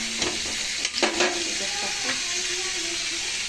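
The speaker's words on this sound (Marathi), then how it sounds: "थोडा अद्रक लसूणचं पेस्ट, थोडंसं लालसर होऊ द्या." Ginger garlic paste frying with onions and curry leaves in a pan, a constant hissing sizzle with a few spatula scrapes near the start.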